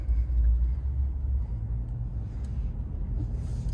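A 2022 Honda Passport Trailsport driving through snow in snow mode, a steady low road rumble and muffled engine drone heard from inside the cabin.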